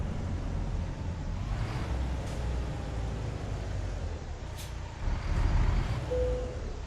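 A big rig in American Truck Simulator idles with a steady low engine rumble, then the parking air brake is set with a sharp hiss partway through, followed by a louder stretch of engine and air noise.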